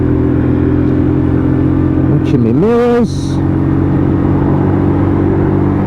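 A WK Scrambler 125cc motorcycle with a five-speed gearbox, new and being run in, drones steadily on the road during a gentle test ride, its engine loud and close throughout while a rider speaks briefly midway.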